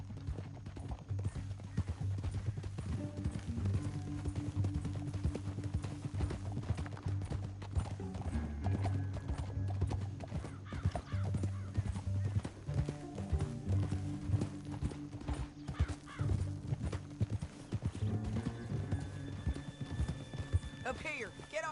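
Horses clip-clop in Red Dead Redemption 2, steady hoofbeats running under game music and an occasional whinny, with characters talking over the ride throughout.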